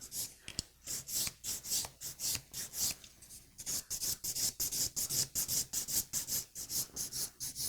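A file scrapes a sculptured acrylic nail in long, even strokes around the cuticle area, a rhythmic run of close rasping passes that speeds up toward the end.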